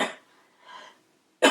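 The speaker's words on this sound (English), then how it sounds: "When he coughs, no one says nothing." A person coughs sharply at the start, gives a softer cough or throat-clear midway, and coughs loudly again at the end, each burst short and close.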